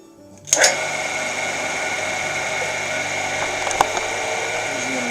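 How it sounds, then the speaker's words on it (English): Power drill boring a 25/64 hole into a two-piece vise part, a sharp bite at the start, then a continuous high whine that runs steadily close up with a brief catch partway through. "I'll drill 3/4 of the way through, and that'll be the hole the bolt goes through"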